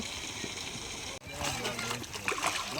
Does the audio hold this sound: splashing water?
yes